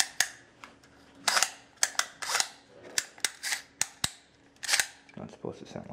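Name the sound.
faulty TACO normally open heating actuator clicking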